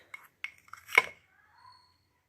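Gram flour, turmeric, curd and honey ubtan being mixed in a bowl, heard as a few short, quiet scraping and clinking taps of a spoon against the bowl, spaced irregularly with brief pauses between them.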